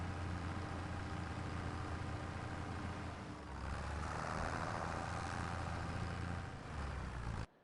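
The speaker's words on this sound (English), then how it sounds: "Sit here and run the tractor at high idle" A video game tractor engine holds a high idle, a steady droning hum with a low throb that runs unbroken for several seconds and cuts off at the end.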